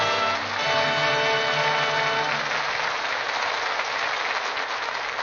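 Studio audience applause at an old-time radio drama broadcast, a steady wash of clapping that swells and holds loud for several seconds, with faint music tones fading beneath at the start.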